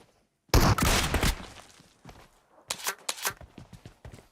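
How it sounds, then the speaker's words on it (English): Gunfire in a PUBG Mobile esports match: a loud, dense burst of shots up close, then a quieter pause and a second rapid volley of sharp cracks a couple of seconds later. "Nice shot from Flip towards Soaz as he makes the jump"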